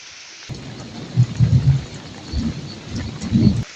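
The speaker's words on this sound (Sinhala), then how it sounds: "වැස්ස පොඩ්ඩක් අඩු වුණා වගේ" Steady rain patters on a garden throughout while low thunder rumbles roll in several times, loud and close, with no voices.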